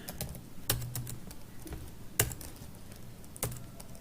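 Keys clack on a computer keyboard while HTML code is typed: sparse, irregular taps with a few louder strikes, close and fairly quiet.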